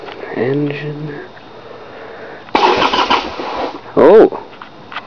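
A 1994 Harley Sportster 1200 motorcycle with choke on cranks cold, then catches in a loud, rough burst of engine noise and a second short rev, close by, after a person speaks briefly at the start.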